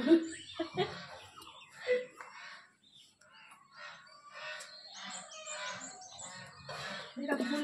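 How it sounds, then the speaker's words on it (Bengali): Geese being driven into their shed in a riverside village in the morning honk and squawk loudly in bursts, mixed with talk and bird calls close by. "রাজহাঁসকে ঢুকিয়ে দিচ্ছে ঘরে"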